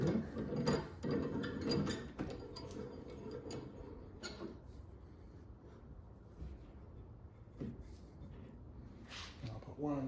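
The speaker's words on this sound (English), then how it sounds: "These are long pipe clamps. And I'll put one" Long pipe clamps being tightened in a workshop, rapid ratcheting clicks and mechanical ticking close up at first, then fading to quieter intermittent clicks and faint knocks.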